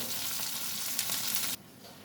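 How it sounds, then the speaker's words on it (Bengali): Dried fish frying in a pan until reddish, with a steady, close sizzle that cuts off abruptly after about a second and a half, leaving only a faint hiss. "দেখো শুটকি মাছ কিন্তু আমার লাল লাল করে ভাজা হয়ে গেছে"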